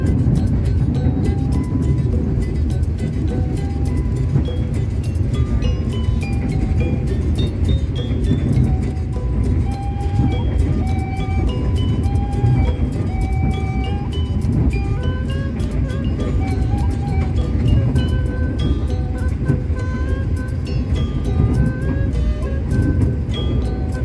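Inside a KA Lodaya passenger train running down a steep grade: a continuous deep rumble and rolling noise with a faint metallic squeal, steady throughout.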